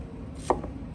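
A knife slicing through shallots on a board, one crisp cut ending in a single knock against the surface, close and clear.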